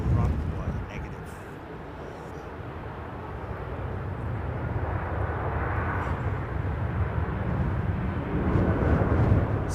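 Cathay Pacific jet taxiing at London Heathrow, a steady loud engine roar and rumble that builds slightly toward the end, with faint voices in the background.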